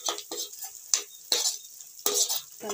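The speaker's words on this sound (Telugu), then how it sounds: "కొద్దిగా పసుపు, వేసినాక కొంచెం సేపు కలపాలి." Spoon stirring turmeric into a frying egg curry masala in a pan: several quick scraping strokes with clinks against the pot, over a soft sizzle.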